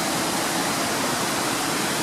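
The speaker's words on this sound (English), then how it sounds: "The most water I've ever seen coming down this place" A waterfall in full spate roars as a dense, unbroken wash of loud broadband noise, steady and close, with no voices over it.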